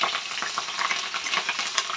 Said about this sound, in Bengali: কাঁচা লঙ্কাটা একটু ভাজা হয়ে গেছে।